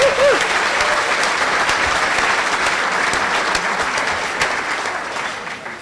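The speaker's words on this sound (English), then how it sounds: "So I'd like to give a round of applause." Sustained applause from a luncheon audience honoring family members of scholar athletes, steady and full throughout, fading slightly toward the end, with a brief voice at the start.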